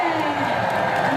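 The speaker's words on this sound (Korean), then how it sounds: "여러분, 조갑재 대표님께 뜨거운 박수 부탁드리겠습니다." Dense applause and crowd noise fill a packed outdoor political rally in Jinju, steady and loud throughout, with voices and cheering mixed into the clapping.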